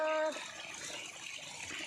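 Water runs from a small spout in a steady, soft splash that follows a brief tone at the start and continues evenly to the end.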